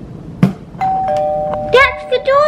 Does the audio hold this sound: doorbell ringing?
yes